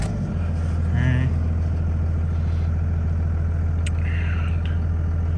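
A 1999 Dodge Ram 2500 Cummins turbo diesel idles on a cold day with a steady, heavy low rumble and a constant throb, close and loud throughout, with faint clicks and brief higher tones over it.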